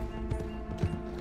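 Horse hooves clip-clop in a video game, with a few moderate hoofbeats landing in uneven rhythm over a steady background hum.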